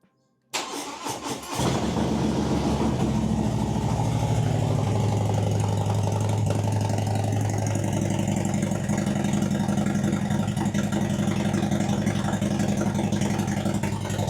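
A Harley-Davidson M8 motorcycle fitted with a stage 2 upgrade cranks briefly and fires up, then settles into a loud, steady, rumbling idle for the rest of the recording, close by with no talking.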